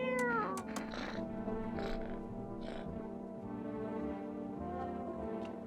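A cat in the video game No, I'm Not a Human lets out a drawn-out meow, close and clear, with soft game ambience continuing underneath.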